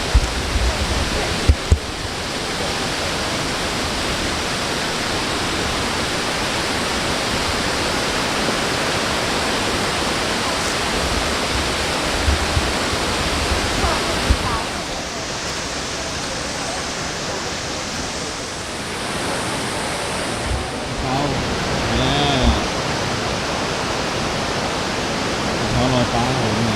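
Wulai waterfall in Taiwan rushing continuously, a loud, dense wash of falling water that stays steady throughout with only slight swells.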